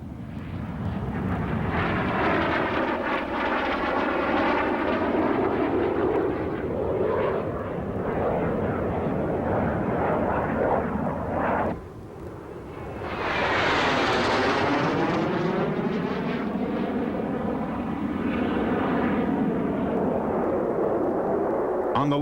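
Loud, sustained roar of B-57 Canberra jet bomber engines spooling up and droning, with sweeping whines rising and falling and a brief dip midway.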